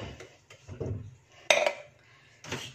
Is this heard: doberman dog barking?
no